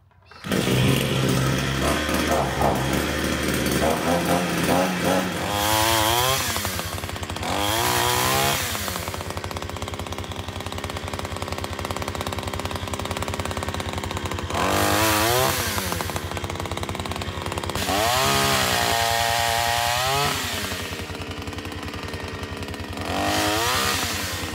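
A Wild Badger 4-in-1 multi yard care tool's small two-stroke engine runs loud and close, revving up in several rising bursts between steady buzzing idle stretches.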